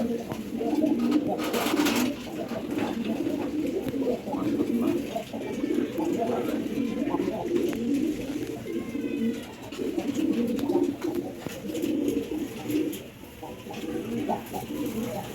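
Pigeons in a loft with squabs coo continuously in overlapping low, throaty murmurs close by, with rustling and a brief burst of flapping early on and a person talking faintly at times.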